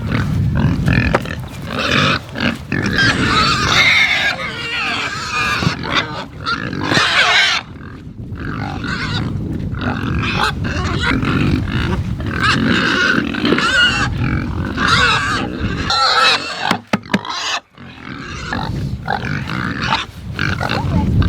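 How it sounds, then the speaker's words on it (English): Hungry pigs on a homestead grunt and squeal while being fed on a cold, rainy morning, a loud, close, continuous jumble of snorts and grunts with a few brief pauses. "Hungry pigs, they're making another mess."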